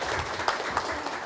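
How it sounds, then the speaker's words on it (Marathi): Audience clapping at a book launch ceremony, a brief burst of steady applause from a seated crowd. "आपण एक छान जोरात पुन्हा टाळ्या वाजवूया"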